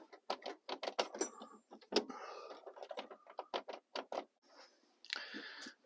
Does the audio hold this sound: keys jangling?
yes